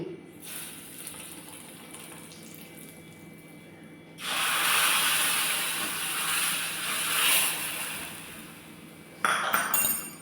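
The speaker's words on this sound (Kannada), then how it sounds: "ಈಗ ನಾನು ಒಗ್ಗರಣೆ ಹಾಕ್ತೇನೆ ಇದಕ್ಕೆ" A sudden loud sizzle bursts in midway as hot spice tempering is poured into pineapple chutney, hissing steadily for several seconds before easing, with a brief clatter at the end; no talking.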